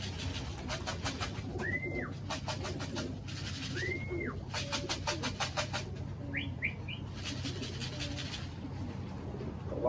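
Pigeons coo close by at a racing loft as one bird arrives home after a 357 km young bird combine race. Several rising coos and soft chirps sit over a constant background hum, with intermittent wing flutters.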